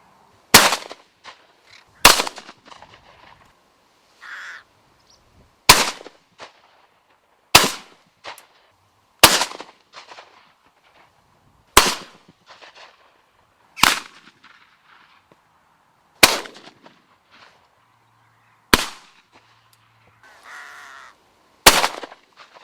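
Sharp shotgun blasts ring out one at a time every couple of seconds during crow shooting in Ireland, about a dozen in all, with crows cawing in between.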